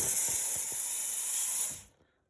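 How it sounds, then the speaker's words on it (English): An espresso machine steam wand hisses loudly and continuously for nearly two seconds while steaming milk for a cortado, with faint gurgling underneath, then cuts off abruptly into silence. "Now I'm going to steam some milk."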